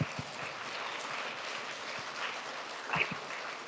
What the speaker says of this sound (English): can you show me what an appropriate round of applause looks like?